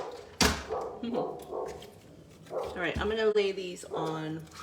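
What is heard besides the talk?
dog barking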